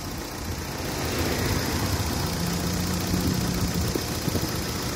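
A Toyota Carina TI sedan's engine idles steadily with an even mechanical hum and a slight rhythmic knock, heard up close and alone.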